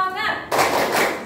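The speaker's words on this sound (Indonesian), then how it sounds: "Oke, tepuk semangat." A classroom of students claps a rhythmic spirit clap in a school lesson. A fast burst of hand claps rings out loudly and fills the room. Voices can be heard before and under the clapping.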